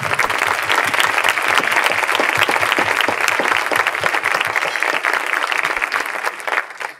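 Steady, loud audience applause from a large crowd at a talk, dense clapping that carries on evenly for several seconds before beginning to thin out at the end.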